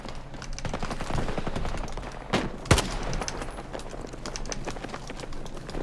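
GEW rifle fire and battlefield gunfire in the shooter Battlefield 2042 crackle in a busy stream of shots, with one sharp, louder report standing out midway amid constant background combat noise.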